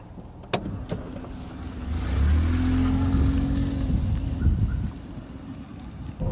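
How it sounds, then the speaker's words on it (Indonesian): A Daihatsu Ayla engine hums and rises as the car pulls away, a low steady rumble growing slightly louder, heard from inside the cabin. "Oke, kita mulai jalan naik mobil ini ya."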